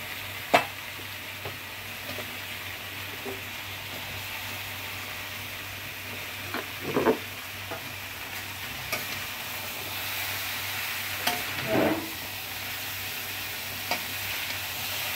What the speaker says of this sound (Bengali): এটা কুমড়োটা দিয়ে আমি এখন কষবো